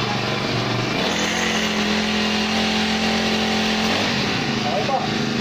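Four-stroke grass cutter engine pulled to start and settling into a running idle, a rough low rumble that shifts pitch after a few seconds, with a person talking over it.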